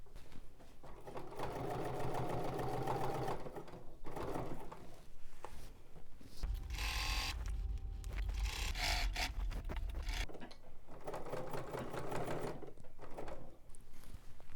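A sewing machine fitted with an edge stitch foot, stitching in close bursts of rapid mechanical whirring, pausing briefly between runs, with a denser, louder stretch in the middle.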